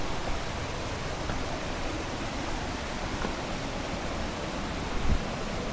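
A waterfall roars as a steady, even broadband rush of falling water that continues unchanged from start to finish, heard up close with no talk over it.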